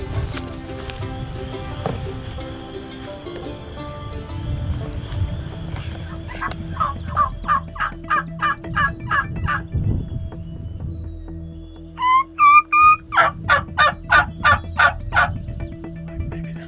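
Wild turkey gobbling during an Iowa spring hunt, two loud rattling gobble bursts standing out over low outdoor rumble and faint whispered talk, the second series closer and stronger.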